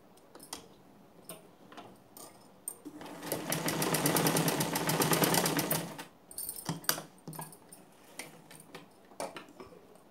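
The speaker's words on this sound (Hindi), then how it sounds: "और ये सिलाई कर लेते हैं।" Sewing machine stitching a fabric hair cap, with scattered handling clicks before and after a steady whirring run of rapid needle strokes lasting about three seconds in the middle.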